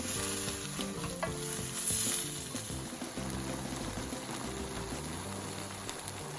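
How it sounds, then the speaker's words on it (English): A chicken and vegetable stir fry with bean shoots sizzles loudly in a hot pan, steady frying hiss layered with repeated scraping and stirring strokes throughout. "So quickly stir those through, and we're just going to give that another minute cooking."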